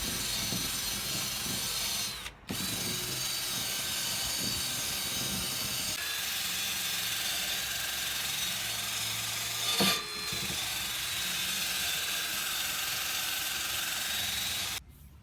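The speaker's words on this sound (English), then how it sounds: "They just had a light coat of surface rust that was easily cleaned up with a wire wheel and some rust converter" A wire wheel on a power tool scrubs light surface rust off metal garden seat parts, a steady loud whirring and scratching that runs continuously, broken by a few brief pauses.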